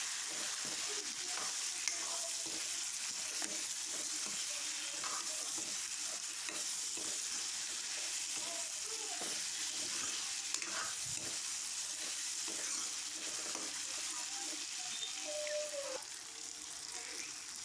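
Onions frying with cumin and coriander in oil for a local chicken curry, a steady bright sizzle with occasional stirring scrapes running throughout, close and fairly even in level.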